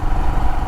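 Royal Enfield Himalayan motorcycle engine idles low at about 1,000 RPM, a close, steady thumping rumble with a slight clatter, heard alone for under a second.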